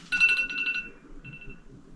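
A phone's ringtone goes off briefly, a short bright electronic melody near the start followed by a softer tone, fairly close and alone.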